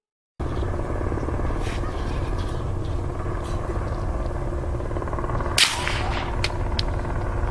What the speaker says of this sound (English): the distinct sound of a helicopter circling can be heard